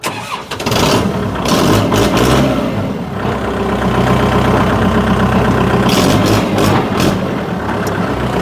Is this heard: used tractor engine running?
yes